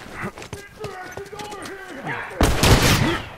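Rifle gunfire in a shooter video game, with a sudden loud burst of shots near the end after hoof-like clopping and tense shouted talk between players.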